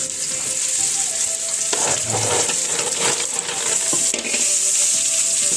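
Freshwater snails tipped into a pan of sautéed aromatics for a Waray coconut-milk dish fry with a loud, dense, continuous sizzle, broken by a few stirring clatters.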